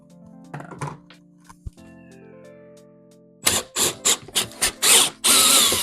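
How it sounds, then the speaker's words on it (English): A power drill bores a hole for a water tank fitting under a first-generation Toyota Sequoia, fitting a Boondocker 14-gallon tank. A quiet stretch with faint hum gives way to several short, loud bursts of drilling, ending in one sustained run. "I'm just going to apply a little force up with the drill."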